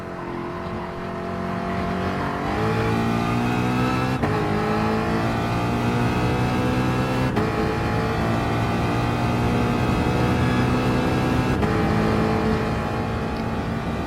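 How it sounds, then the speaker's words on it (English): Ford Mustang engine in Gran Turismo Sport at Bathurst's Mount Panorama circuit with traction control off, droning loud and steady while the pitch climbs and falls through several gear shifts, with no talk. "the sound of the Ford Mustang is quite nice to listen to"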